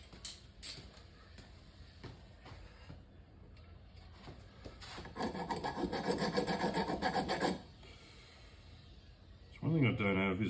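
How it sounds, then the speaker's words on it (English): A hand file rasping on a metal bolt for a RAM mount: intermittent scraping strokes at first, then a sustained run of rapid, dense rasping, followed by quieter handling sounds and a brief voice at the end. "Yeah, I think this one's going to have to be filed."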